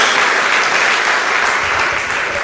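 Steady applause from a church congregation clapping together through a worship service, loud and dense throughout with no voices standing out.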